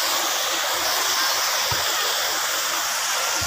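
River water rushing past a riverside park, a loud, dense, continuous hiss with no break.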